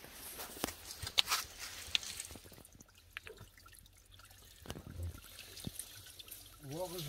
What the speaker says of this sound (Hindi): मीठे पानी का चश्मा